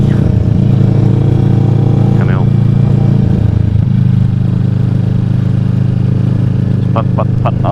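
Kawasaki Vulcan S motorcycle climbing a hill, a loud steady engine drone that shifts in tone partway through, with wind rumble and a voice heard briefly over it.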